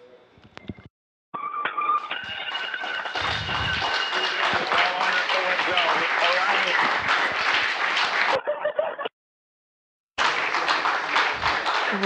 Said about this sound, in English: Lots of cheering here in the room.